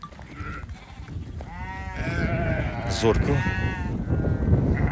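Goats and sheep for sale at a livestock market bleat several times, loud and close, over ongoing talk from people standing nearby.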